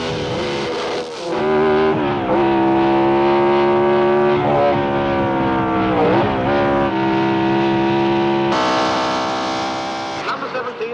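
Formula racing cars, a Ferrari and a BRM, scream past in a race, their high-pitched engines holding loud sustained notes that rise and fall as they shift gears, with a commentator talking over them.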